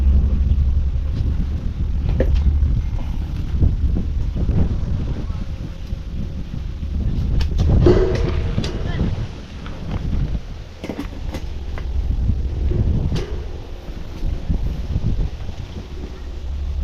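Strong northeast monsoon wind (amihan) blowing outdoors, a steady low roar buffeting the microphone throughout, swelling slightly around the middle with faint scattered knocks.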